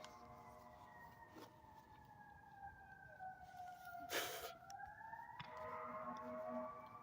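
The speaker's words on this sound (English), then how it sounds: "It is an alarm, but it's a siren, but it sounded like one angry horn." A siren wails at night along a dark road in Henry County near Atlanta, a steady distant tone that slowly shifts pitch, faint and alone under quiet background noise.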